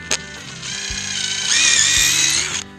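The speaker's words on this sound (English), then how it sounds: "It's so brittle it just breaks up, so I'm having to pre-drill" A power drill whirs steadily through old, brittle cedar laths, its pitch rising as it bites deeper, then cuts off after a few seconds.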